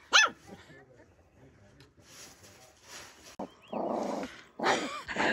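Dog barks heard among month-old puppies being fed meat outdoors: a sharp bark at the start, then a cluster of loud, close barks and yips in the second half, with quieter rustling and faint voices between.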